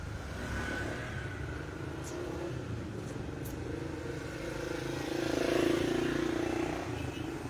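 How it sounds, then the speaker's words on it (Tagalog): Heavy, slow-moving street traffic of cars and motorcycles, a steady low engine rumble with one vehicle revving louder and closer partway through, heard faintly at a distance. "Yung traffic na yan, heavy traffic."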